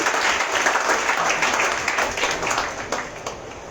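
A church congregation applauds during a Sunday worship service, a dense, steady wash of many hands clapping close by that tapers slightly toward the end.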